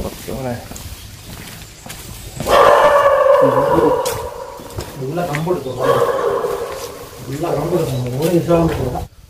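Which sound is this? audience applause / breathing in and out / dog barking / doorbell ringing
dog barking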